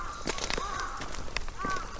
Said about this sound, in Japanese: 聞こえるカラスの声。